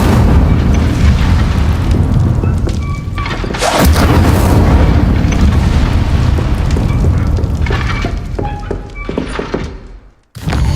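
An Incendio fire spell bursts loudly in Hogwarts Legacy, with heavy thumping whooshes over a dense rumble, a sharp burst near the middle, then a brief drop to near silence at the end.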